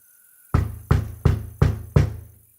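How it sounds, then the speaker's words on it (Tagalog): Five firm knocks on a door from outside the room, evenly spaced and solid with a slight ring after each, following a quiet pause, with no voices. "narinig ko na ang katok ni ate sa labas"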